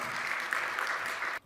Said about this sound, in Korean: 우리 나오실 때에 박수로 축복하겠습니다.